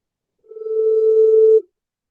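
A single steady telephone tone sounds as a call is placed, a clean continuous beep lasting just over a second, loud and isolated against complete silence.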